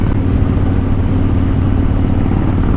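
A motorcycle engine revs steadily at close range while cruising along a road, a loud continuous low rumble with no voices.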